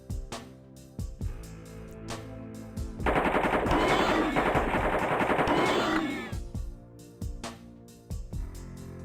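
AK-47 gunfire in a video game: single heavy shots spaced out, then a sustained rapid automatic burst lasting about three seconds, then more single shots, loud and close.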